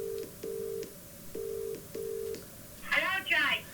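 A run of touch-tone dialing beeps while placing a phone call, four steady tones in a row, followed by a brief burst of another sound at the end, with no talking over them.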